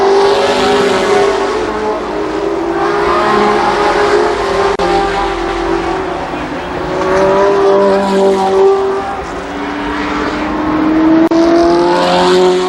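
Race cars battling for position at Columbus Motor Speedway in 1993, with several engines roaring loudly and continuously and their pitch rising and falling as they circle the track. No voices are heard.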